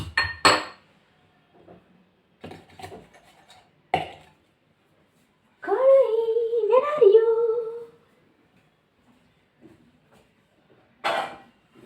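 Kitchen pots, pans and cutlery clank and clink in a home kitchen during a search for a kadhai, with brief scattered knocks, while a person talks nearby at moderate volume.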